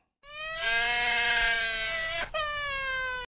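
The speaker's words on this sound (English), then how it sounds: "Cry of a baby." A baby cries in one long wailing, rising-and-falling cry, close and loud, broken by a brief catch of breath before the wail resumes.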